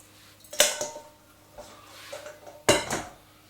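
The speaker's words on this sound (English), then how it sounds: "I'm just going to sieve the dry ingredients through very quickly." Dry oatmeal raisin cookie ingredients being sieved into a bowl, heard as two sharp metallic clanks of a sieve against the bowl with soft scraping and tapping in between.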